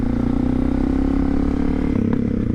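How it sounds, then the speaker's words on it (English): A 1999 Suzuki DR650 motorcycle engine burbles steadily at low speed, a deep throbbing exhaust note, close and loud, with a couple of faint clicks near the end. "at slower speeds, you can definitely hear the exhaust"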